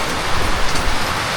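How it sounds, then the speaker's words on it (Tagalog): Steady rain falls in a broad, even hiss during high tide on a coastal shore in rough weather, a continuous wash with small bumps and no voices. "Ulan po ngayon mga ka-adventure."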